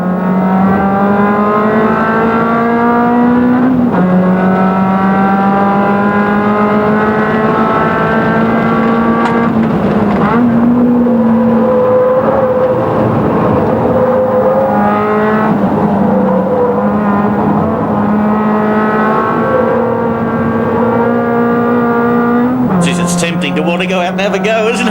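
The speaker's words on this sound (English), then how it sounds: "Let's just take in the sights and the sounds of the GTIs in action at Winton." Suzuki GTi race cars howl around Winton circuit, engines climbing through the gears in repeated rising sweeps with sharp drops at each shift, close and loud for the whole stretch, with a commentator's voice faintly beneath.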